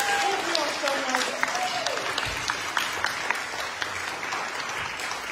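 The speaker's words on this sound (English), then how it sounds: "can we get one last final round of applause for all of our awesome scholars?" An audience at a youth poetry open mic reading applauds loudly and steadily for several seconds, dense clapping filling the room with a few brief voices mixed in.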